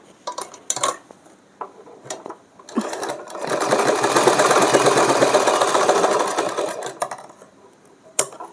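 A sewing machine stitches cloth for a Laddu Gopal dress. Short bursts come first, then a sustained whirring run of about four seconds, close and fairly loud, ending with a few brief clicks and taps.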